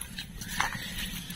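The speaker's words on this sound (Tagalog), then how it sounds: "Tumatahol na yung aso." A single faint dog bark carries from a distance during spider hunting outdoors, set against low background noise.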